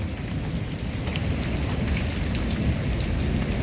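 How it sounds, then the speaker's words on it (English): Heavy rain pours down during a tornado warning storm, a dense, steady hiss of drops striking surfaces outside, loud and continuous with no voices. "It's raining like crazy out there."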